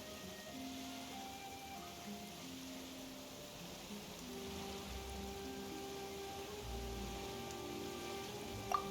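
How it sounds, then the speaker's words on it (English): Steady rain in the fantasy video game Genshin Impact falls as a faint, even hiss across the whole stretch, with soft low game music tones underneath and no voices. "Why is it raining?"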